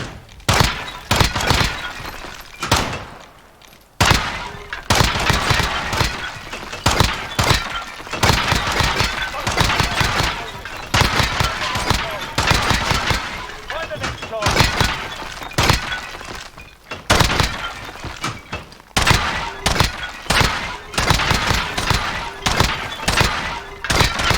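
Rapid gunfire from Call of Duty: Modern Warfare comes in dense bursts of sharp cracks, loud and close, with short pauses between volleys across the whole stretch.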